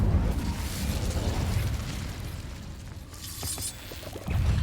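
Incendio fire spells cast in Hogwarts Legacy burst with a deep rumbling whoosh, settling briefly before a final loud flare near the end, with no voices over it.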